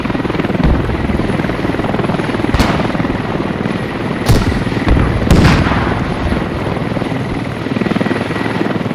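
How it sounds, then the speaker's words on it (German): Helicopter landing in a squad-based shooter video game: a loud, steady rotor roar throughout, with a few sharp bangs of distant gunfire cutting through. "Hubschrauber landet hier."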